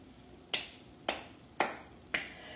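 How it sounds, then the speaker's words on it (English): Single person clapping hands together in a children's song, four crisp isolated claps at an even slow pace, close and clear over quiet background. "clap your hands together"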